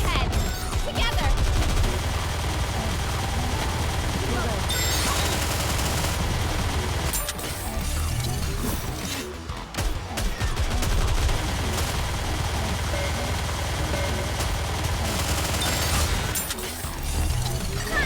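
Rapid gunfire from the game Nikke, dense bursts of automatic shots and impacts rattling on nearly nonstop, with a brief lull midway and game music and effects mixed underneath.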